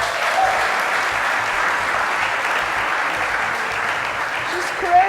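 A live studio audience gives sustained, dense applause that stays steady and fairly loud throughout.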